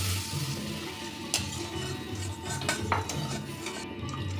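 A pan sizzles steadily as hot water meets frying masala for a hilsa fish curry, with scraping stirs and occasional metal clinks close by.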